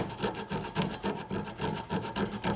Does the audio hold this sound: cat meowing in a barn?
no